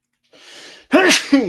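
A single sharp sneeze preceded by a short breathy inhale, followed by a brief voiced sound, close to the microphone.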